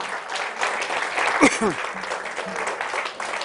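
A church congregation claps and cheers in acclamation, a broad steady wash of applause with voices rising over it, one sharp louder burst near the middle, close and continuous throughout.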